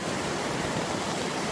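Rushing river water during a large high-water flood beside a dry stone bridge wall, a steady, loud, broadband roar that continues unbroken throughout.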